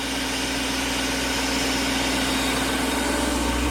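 A BMW E34's engine runs steadily with its fan clutch spinning, giving a continuous, loud, even hum and whir close by, with no talking.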